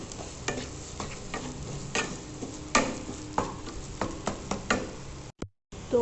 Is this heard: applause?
no